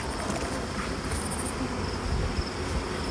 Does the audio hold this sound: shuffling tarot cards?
no